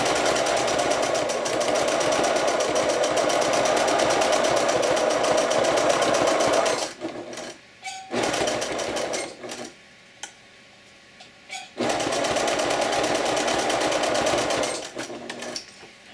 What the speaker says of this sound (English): I'm going to backstitch on this one.